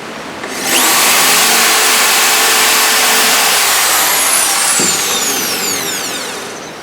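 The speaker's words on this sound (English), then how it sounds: "Now I'm just going to drill" Power drill boring a single hole into a decking board, a loud steady whine that rises in pitch once spinning and holds for several seconds before winding down, close up with no talk.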